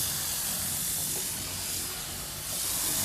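A 4000 PSI, 8 gallon per minute power washer sprays a wooden deck, giving a loud continuous close hiss of high-pressure water with a brief dip partway through.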